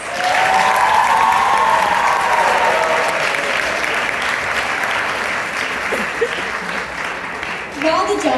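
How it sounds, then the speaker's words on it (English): Audience in a high school pageant auditorium applauds contestants, a loud, sustained roar of clapping with cheers and whoops layered on top, gradually easing as a voice begins near the end. "let's give one more round of applause for our contestants"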